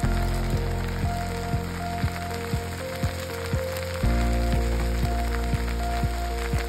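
Sliced okra frying in a pan with salt, a continuous crackling sizzle with steady hiss, punctuated by regular clicking ticks, close and uninterrupted.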